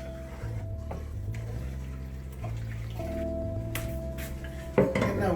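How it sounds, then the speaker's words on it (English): A utensil stirs pasta with sauce and plenty of parmesan in a pan, with scattered metallic clinks and scrapes over a soft background hum, ending in a louder clatter. "We stir it."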